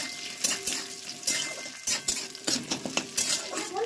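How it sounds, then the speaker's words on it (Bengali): Chopped ginger is stirred and fried in a pan, with a spatula scraping and clinking against the metal in irregular strokes over a soft, steady sizzle. There is no talk. "আদাটা ভালো করে ভাজতে হবে"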